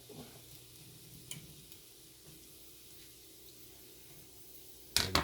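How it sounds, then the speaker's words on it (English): Onions frying in a pan on the stove for deep South dressing, a quiet steady sizzle with a few soft ticks of stirring and a louder clatter at the end. "We're gonna let this fry up"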